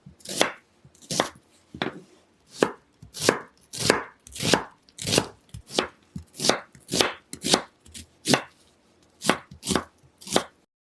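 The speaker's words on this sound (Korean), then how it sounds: "양파 1개는 반으로 자른 다음 작은 크기로 써세요" An onion being chopped into small pieces on a board: a regular run of about twenty crisp, close knife thumps at a steady, slightly uneven rhythm, with no talking.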